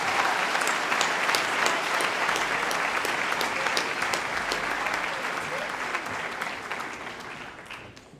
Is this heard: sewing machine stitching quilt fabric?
no